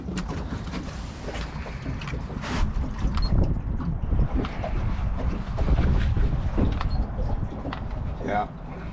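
A 2008 Crestliner 1650 Sport Angler boat running on the water with its Mercury 60 outboard: a steady engine drone with rushing water and wind buffeting the microphone, while someone talks over it.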